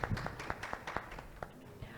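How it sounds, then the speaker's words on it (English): Scattered audience clapping at a conference panel on Africa's future, a handful of distinct claps at an uneven rhythm, fairly close and moderate in level, with faint voices murmuring underneath. "Round of applause,"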